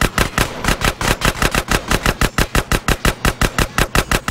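Rapid automatic gunfire in GTA San Andreas, fired at a vehicle's driver during a chase on a bike: a loud, steady stream of shots at about six per second, running unbroken throughout with no talk.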